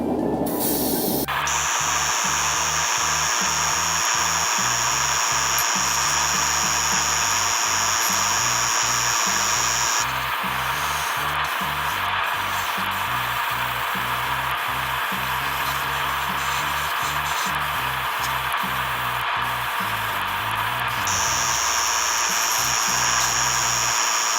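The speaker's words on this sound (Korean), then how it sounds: "이제 에어브러쉬를 사용한 이제 프라이머는 이런 식으로 천천히 칠하는 게 가능한데요" An airbrush spraying primer onto a plastic scale model, with a steady continuous hiss of compressed air and a sustained high whine from the compressor or brush, running throughout with no talk.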